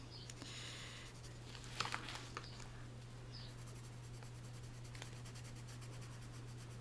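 Colored pencil scratching across paper, a cornaline shade, in soft continuous strokes close to the microphone, faint under a steady low hum with a brief louder burst of scribbling.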